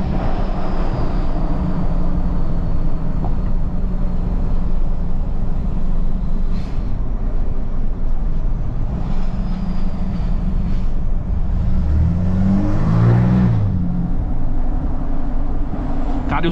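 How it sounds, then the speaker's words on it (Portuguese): A Ram 2500 pickup truck drones continuously from inside the cab, a loud steady low rumble of engine and road noise with a brief deeper swell near the end, and no clear talk over it. "o barulho dessa caminhonete"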